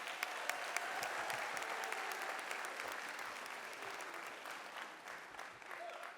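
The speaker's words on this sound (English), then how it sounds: "Let's give them another round of applause." Sustained applause from a large convocation audience at Bowie State University for the band, dense crackling claps with sharper individual hits, loud and steady before gradually easing off.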